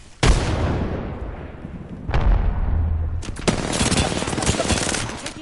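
Gunfire in the game Apex Legends: loud, close bursts of rapid automatic shots, a sharp onset, a short gap, then a dense sustained volley of cracking shots.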